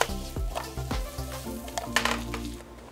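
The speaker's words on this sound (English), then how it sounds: "Nothing in life is better than the sizzle of a steak." Steak frying in a hot pan in a home kitchen, a close sizzle and spatter with a few sharp clinks of cookware and utensils.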